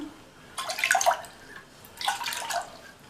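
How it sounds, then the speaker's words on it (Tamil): Two brief splashy bursts of water poured into a cooking pot, each lasting about half a second, with a quiet pause between them. "ஃபஸ்ட்டு இந்த பாத்திரத்தில் 1/2 கப் தண்ணி சேர்த்துக்கலாம்"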